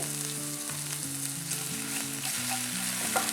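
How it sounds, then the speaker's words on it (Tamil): Crushed garlic and curry leaves sauté in a pan for garlic coriander rice, a steady close sizzle and crackle of frying running throughout, with soft background music underneath and no talking. "இது எல்லாத்தையும் வந்து ஒரு ஃபியூ செகண்ட்ஸ்க்கு சாட்டே பண்ணிக்கிறேன்"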